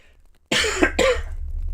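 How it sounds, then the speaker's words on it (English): Two harsh coughs close to the microphone, one right after the other, followed by a low steady rumble. "I'm shaking the camera as I cough"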